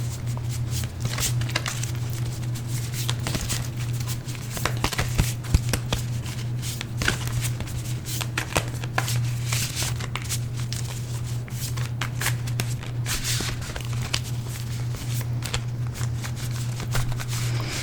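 Repeated soft riffling and slapping of oracle cards being shuffled by hand, continuous and close, over a steady low hum.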